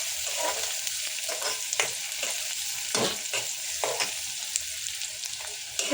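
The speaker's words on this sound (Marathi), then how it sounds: "त्याला मस्त परतून घेऊया" Onions and tomatoes sautéing in a pan for a bamboo-shoot and prawn dish, a continuous close sizzle with soft scraping stirs now and then, no voices.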